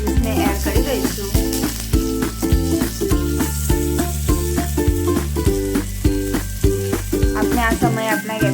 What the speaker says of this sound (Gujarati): કટલેસને ડીપ ફ્રાય કરીશું.